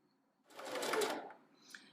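Sewing machine stitching quilt blocks in a quilting class, a single quick burst of needle whirring that rises and fades within about a second, close and alone.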